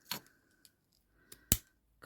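Scissors snip excess ribbon while finishing a half pinwheel hair bow, a few sharp close cuts spaced apart with quiet between them.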